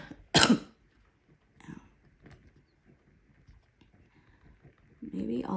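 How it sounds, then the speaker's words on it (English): One sharp, loud cough bursts out near the start, followed by a few seconds of near-silence with faint small sounds before a person begins talking at the end. "Maybe all of the extra talking is exacerbating this cough"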